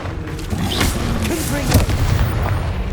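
A Confringo blasting spell explodes in the Hogwarts Legacy video game, with a loud booming blast and crackling rumble over game effects and a spoken voice.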